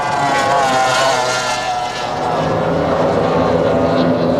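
F1 racing powerboat engine at Tzaneen Dam, a loud, continuous high-revving roar heard close up from on board as the boat rounds a buoy and rides through wake.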